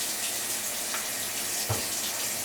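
Warm water running from a tap into a sink, a steady close rush of flowing water at even volume throughout, with a couple of brief soft knocks partway through.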